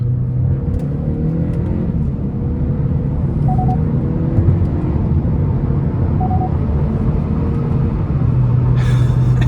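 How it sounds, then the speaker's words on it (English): Inside a 2026 Hyundai Elantra N Line on the interstate, the engine drones in a loud, steady rumble as the car accelerates, with road noise throughout and no talking. "And then the downshifts too are so snappy."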